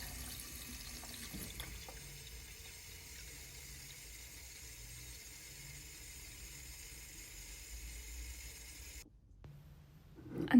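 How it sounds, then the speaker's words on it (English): A kitchen water tap runs into a large jug, a soft steady trickling stream lasting about nine seconds before cutting off, followed by a faint clunk. "I'm going to get my tap running and fill up a large jug with some water."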